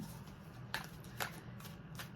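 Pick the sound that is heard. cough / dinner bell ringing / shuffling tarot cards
shuffling tarot cards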